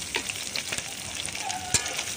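Chopped onions frying in a pan with garlic and ginger for an egg chop recipe, giving a soft close sizzle with a few light stirring scrapes and clicks.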